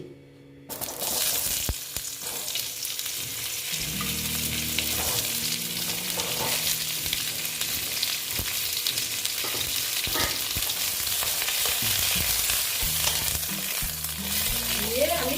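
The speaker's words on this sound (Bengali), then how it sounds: "এইবার আমি পটলগুলো এই তেলেতেই দিয়ে দিচ্ছি" Pieces of pointed gourd fry in hot oil, giving a steady, close sizzle with occasional stirring clatter that continues throughout.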